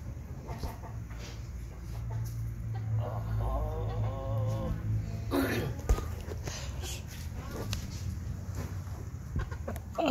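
Chicken clucking in short bursts mid-distance, mixed with background voices and outdoor ambience.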